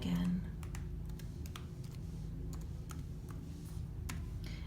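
Soft, quick key taps on a Chromebook keyboard as a password is typed, a faint irregular clicking over a steady low background hum, with no voices.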